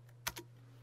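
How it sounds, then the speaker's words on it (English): Two quick, close keystrokes on a computer keyboard while entering a command during a software install, in a quiet room with a steady background hum. "Now I'm going to type LT menu to initiate the menu."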